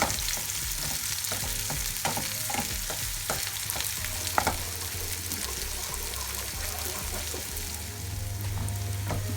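Onions caramelising over medium heat in a pan, a steady close sizzle with scattered pops and occasional stirring scrapes, continuous throughout with no voices.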